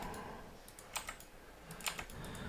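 Computer keyboard keys tapped while working in AutoCAD, a few scattered clicks with two sharper, louder Enter strikes standing out, close and fairly quiet with no talking.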